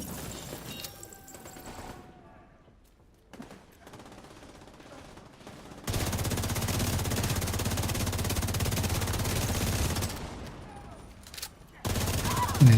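Sustained gunfire in The Division, a team shooter game: scattered shots give way to a dense, loud wall of rapid automatic fire that pauses briefly and then resumes near the end.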